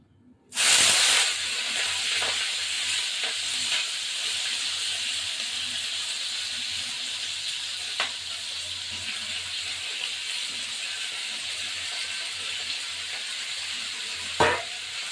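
Onions dropped into hot oil with cardamom pods for a Bengali chicken curry hit the pan with a sudden loud sizzle, then settle into a steady frying hiss with a few faint clinks of stirring.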